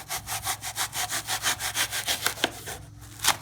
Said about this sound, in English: tear off the excess, which you can do just with your fingertips, or get a knife and just trim it off.